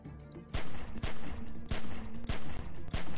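Gunfire aimed at a window in Telltale's The Walking Dead 400 Days game: five or six sharp, loud shots at uneven intervals over a sustained roaring background, with no voices.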